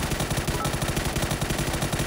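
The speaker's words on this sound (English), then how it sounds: "Especially if Ibby and Quizzy fire first." Sustained automatic gunfire in a PUBG pro scrim match, fast evenly spaced shots in a continuous loud stream over a couple of seconds.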